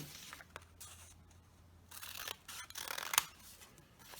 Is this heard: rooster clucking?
no